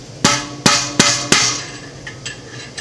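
Four sharp metallic taps from an Allen wrench knocking out a bearing in a Williams System 30 rear bicycle wheel, evenly spaced and close, then a few fainter taps trailing off, with no talking.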